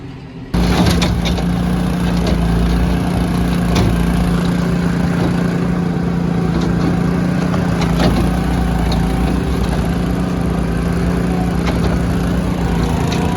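A tractor engine drones close by at an even idle, running continuously with a faint high whine and occasional clicks, no voices.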